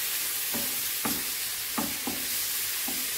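Small cubes of chicken fry with black pepper and seven-spice in a pot, a constant loud sizzle broken by several scraping stirs at uneven intervals, close and with no voices.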